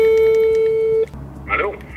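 A steady telephone tone sounds loud and close for about a second while calling grandma, then cuts off into room noise, followed by a brief voice.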